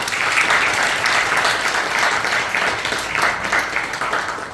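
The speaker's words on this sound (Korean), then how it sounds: "모두 다시 한번 뜨거운 박수를 한번 환영해 주십시오" An audience at a university special lecture gives warm, sustained applause to welcome the lecturer, a dense, even wash of clapping that stays loud and steady.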